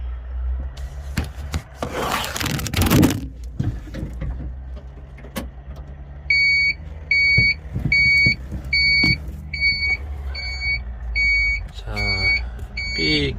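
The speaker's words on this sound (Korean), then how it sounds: "다시 온하니까 삐삐삐 소리가 나는데" Some rubbing and clunking, then a series of evenly spaced, high electronic warning beeps from an LS PS80 tractor at key-on, showing fault code A12, repeating in a steady rhythm, loud and close.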